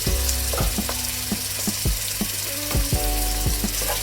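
Two chopped onions with salt sizzle and fry steadily in a pan for chicken vindaloo, a continuous crackling hiss broken by repeated scraping stirs of a spoon against the pan.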